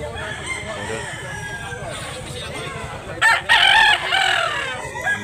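A gamecock crows once, loud and near, at a rooster sale in northern Cebu, rising over a steady murmur of background noise.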